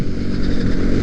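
Another rider's motorcycle going by, heard as a brief, steady engine drone at close range with no pause.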